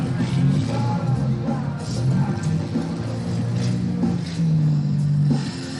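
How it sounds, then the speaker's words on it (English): Demolition derby cars at the Simcoe Derby are driven out of the arena between heats, their engines rumbling and revving steadily up close, with crowd noise and yells in the background. "Moving the cars out of here right now as we get set with heat number 5"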